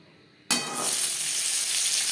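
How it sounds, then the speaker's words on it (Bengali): Frying in a little refined oil in a wok for raw mango jelly chutney: a sudden loud sizzle bursts in after half a second of quiet and holds steady, bright and crackling, close by. "তেলে আমি হালকা করে ভেজে নেব"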